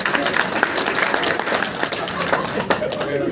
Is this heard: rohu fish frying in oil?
no